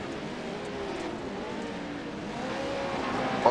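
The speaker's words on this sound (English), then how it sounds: "Everybody on track just trying to get a handle on these trucks." Pro 4 off-road race trucks lap the track at Wild Horse Pass Motorsports Park, their engines a continuous distant roar that swells and revs steadily, with no talk over it.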